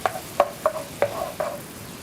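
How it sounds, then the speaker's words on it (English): Mushrooms in a creamy sauce are stirred in a pan, giving five soft scraping strokes at a steady rhythm over a quiet simmer, close up with no talking. "And let this saute for just a second"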